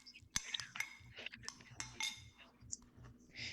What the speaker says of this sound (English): So there's some green onions that we chopped up. That's from our garden. Gonna stir that in.